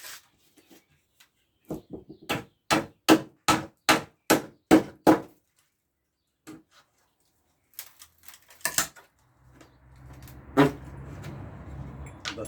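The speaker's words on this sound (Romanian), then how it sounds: "O să scot cuiele din ele în primul rând" Sharp, evenly spaced hammer strikes on old, dry wooden boards as nails are worked loose, a run of about eight loud knocks followed by a few scattered taps and a scraping, rustling stretch at the end; no talk.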